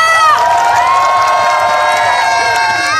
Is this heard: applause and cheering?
yes